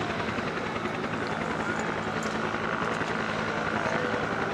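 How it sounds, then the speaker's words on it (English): Several Yak and Nanchang piston aircraft taxi down an air show taxiway, a steady, dense engine and propeller drone holding evenly throughout, fairly close and continuous. "5 yaks and nan chains all taxiing down the taxiway"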